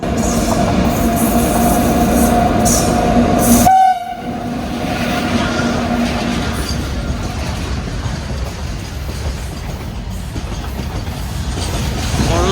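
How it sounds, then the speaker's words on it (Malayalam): A Shri Ganganagar–Kochuveli Express train rumbles past close by at a station, its horn blaring briefly near the start, followed by steady rolling and clattering of wagons that continues to the end. "ഇപ്പോൾ ഒരു ട്രെയിൻ വരും, ഏതാണോ എന്തോ."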